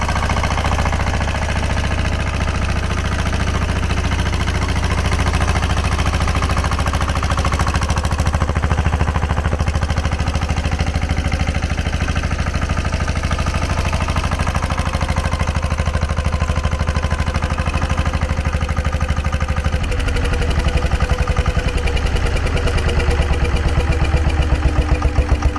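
Loud, close, steady chugging from a SABB GA 12 HP air-cooled single-cylinder diesel running at full operating speed, a constant fast firing beat with a slight shift in tone near the end.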